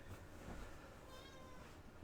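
A cat meows faintly in the Atomfall video game, a couple of short soft cries over quiet background noise.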